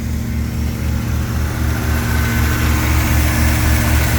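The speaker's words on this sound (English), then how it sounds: "Hook that up and it's idling high, but it's running very, very smooth." A 1982 Pontiac Trans Am with Crossfire Injection, parked for 30 years, idles high but smooth after a vacuum leak at the MAP sensor hose is fixed. The steady, loud, close engine drone pulses evenly throughout with no talk.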